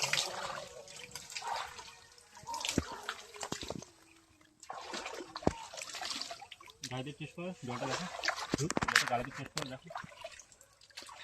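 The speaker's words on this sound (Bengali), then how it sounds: "তাহলে জলটা ছিটিয়ে নে" River water from the Sundarbans being scooped and splashed by hand, with intermittent trickling and dripping sounds close by, under frequent outdoor talking from a group.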